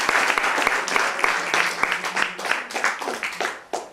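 An audience at a French café-theatre show claps steadily and loudly, dense applause with crisp individual claps standing out, holding for several seconds before tapering slightly.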